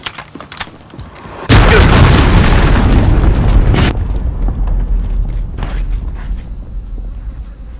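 A weapon firing and a heavy explosion in the shooter game Call of Duty: Modern Warfare: a few sharp clicks, then a loud sudden boom with a rumbling, roaring tail that lasts a couple of seconds before settling into ambient rumble and scattered pops.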